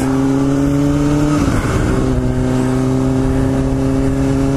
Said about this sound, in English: it's the first day back on the bike, man.